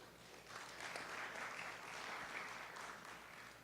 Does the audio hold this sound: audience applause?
yes